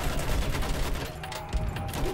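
Battlefield 1 campaign combat with a continuous rattle of rifle and machine-gun fire, dense overlapping shots with a few heavier thumps, loud and close throughout.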